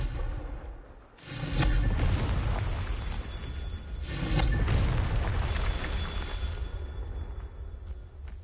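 Two heavy fire-blast explosions from a Confringo spell in Hogwarts Legacy, each a loud booming burst with a rushing whoosh. The first blast comes around one second in and the second near four seconds, with a rumbling tail between and after.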